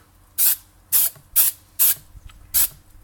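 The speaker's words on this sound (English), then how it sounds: "Just roughed it up with a bit of sandpaper and just gonna spray it a bit black." Five short bursts of matte black aerosol spray paint hiss in an uneven rhythm, close and loud, with quiet pauses between them, coating a sanded GMC 1400W edger part.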